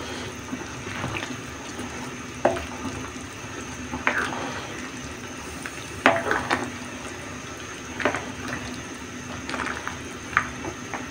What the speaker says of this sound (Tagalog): Haluin lang natin para mag-dissolve na yung ating asin na inilagay.